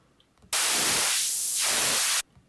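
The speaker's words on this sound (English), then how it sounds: "you've got white noise and high pass filter." High-pass filtered white noise from the Lagrange synth hisses as a single sustained burst of bright static lasting under two seconds, starting and stopping abruptly, with a filter sweep thinning the lower range midway.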